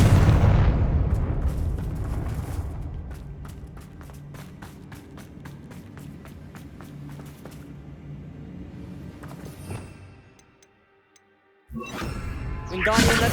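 A Confringo blasting spell in Hogwarts Legacy going off, a long crackling, rumbling burst with rapid popping that fades out before a sharp new blast near the end, all without talk.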